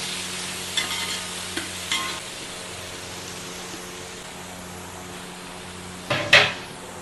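About 600 grams of onions frying in a pot for chicken biryani, a steady close sizzle under a faint hum, with a few soft stirring knocks and a louder scrape near the end.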